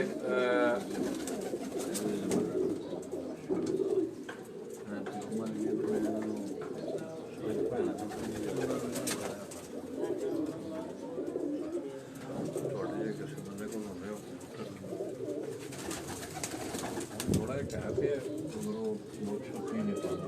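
Many rooftop pigeons coo steadily and continuously close by, a dense rolling chorus with faint voices murmuring in the background, in Sialkot.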